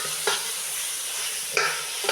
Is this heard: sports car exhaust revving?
no